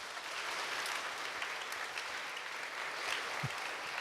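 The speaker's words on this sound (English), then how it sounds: "a big round of applause" Audience at a book talk gives a round of applause, steady and fairly faint as if heard from a distance, with a single low thump near the end.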